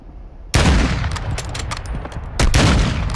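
Heavy, sustained gunfire in Warzone 2.0, with a burst erupting suddenly and rattling on loudly, then a second sharp volley near the end; close and dense, with no talking.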